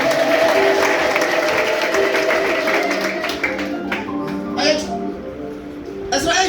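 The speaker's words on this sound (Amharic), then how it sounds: "እልልታ ጭብጨባ ለኢየሱስ ነው።" Church congregation applauding and ululating together, a dense, steady wash of clapping with high trilling voices running throughout and rising again near the end.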